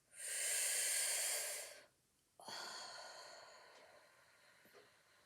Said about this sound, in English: You take 3 nice deep breaths